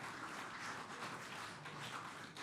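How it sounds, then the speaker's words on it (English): Pub crowd at a live AFL legends event applauding, a dense, continuous patter of clapping filling the room at moderate distance with no talk over it. "these blokes, round of applause for them"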